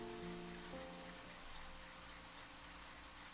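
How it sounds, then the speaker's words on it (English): Rain falling in the video game Deadly Premonition, a soft, steady wash of drops on surfaces with a faint low engine-like hum beneath, quiet and continuous with no talk. "It's raining."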